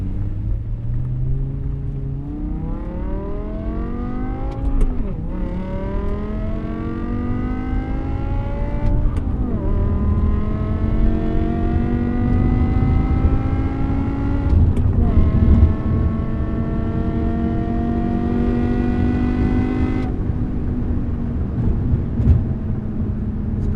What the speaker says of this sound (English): let you listen to this Eisenmann exhaust rip